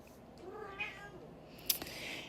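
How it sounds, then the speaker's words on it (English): A house cat meows a few times, faint short mews and a sharper higher cry, heard alone in a quiet indoor room. "yeah, my cats agree, apparently. I don't know if you can hear little Awas there meowing"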